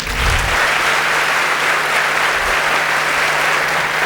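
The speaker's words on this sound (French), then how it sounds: "Des applaudissements, s'il vous plaît," A dense, steady wash of audience applause greets a military brass band at a civic event, loud and continuous throughout with no voices over it.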